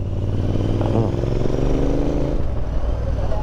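A Royal Enfield Interceptor 650 motorcycle with an aftermarket Powerage exhaust revs loud and close, its twin-cylinder engine rising and falling in a steady throaty burble throughout.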